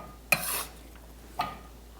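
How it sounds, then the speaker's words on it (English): Vegetables dropped into a pan of hot extra virgin olive oil, a sharp burst of sizzle that fades, then a second smaller hiss. "let's go ahead and add that vegetables to the pan"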